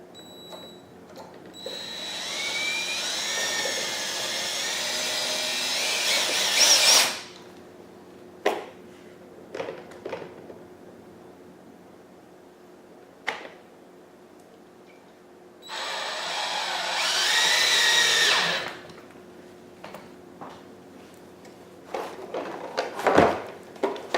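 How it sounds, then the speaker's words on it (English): A power drill drives a screw into a 2x4 wall stud in two sustained whirring bursts, the first about five seconds long and the second shorter, with quiet clicks and handling knocks between and after them. "I'm just putting one screw for right now till we get everything lined up."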